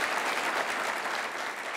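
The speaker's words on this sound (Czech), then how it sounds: "všichni tak tleskají" Dense, continuous audience applause at an evening television talk show, loud and even throughout with no pauses, a crowd clapping together without talk over it.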